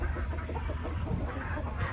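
Loud backyard chickens cluck and murmur together in a dense, continuous flock chatter, close by, with no voices.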